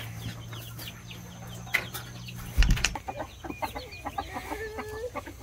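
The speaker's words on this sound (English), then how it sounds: "Here we have some more of the chickens." Chickens on a homestead farm cluck and call in short, scattered bursts, with a sharper flurry of activity midway through, all heard moderately close above a low steady background hum.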